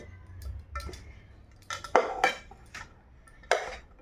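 Clinks and clatter of dishes and cutlery as a plate is readied for a home lunch of rice, several sharp knocks spread over a few seconds with a low background hum.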